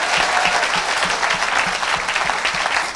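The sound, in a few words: audience applause and acclaim in church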